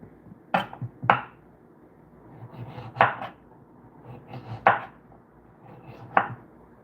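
Knife chopping through carrot trimmings on a cutting board in a home kitchen: sharp, separate knocks landing in irregular pairs and singles, close and clear over quiet room background.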